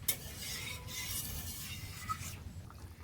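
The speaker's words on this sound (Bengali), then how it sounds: "ভেজে রাখা মাছ এবার ঝোলের মধ্যে দিয়ে দিচ্ছি।" Fried river kain fish slipping into a simmering red curry gravy: a soft, steady bubbling hiss with a faint clink or two, quiet and close, and no voices.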